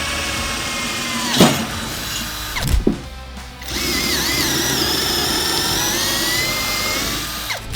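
A Prohummer PHSM191 cordless drill whirs steadily, broken by a couple of sharp clicks and a short pause before the motor spins up again and runs continuously.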